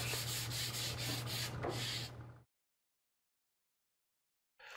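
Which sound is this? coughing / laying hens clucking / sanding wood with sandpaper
sanding wood with sandpaper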